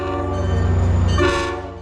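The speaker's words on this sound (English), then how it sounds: "got one more shot of the train departing towards Danbury with CT Rail 6698 leading." CT Rail train 6698 departs toward Danbury, its horn blaring loud and close in a steady harmonic blast over the rumble of the moving train.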